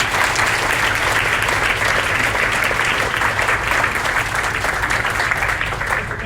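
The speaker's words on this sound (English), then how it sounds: "Give yourselves a round of applause," Guests at a mayor's 50th birthday party in a VIP club give themselves a round of applause, a loud, dense, continuous clapping from a packed room lasting several seconds.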